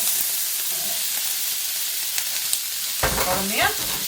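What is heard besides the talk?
onions frying in sunflower oil in a pan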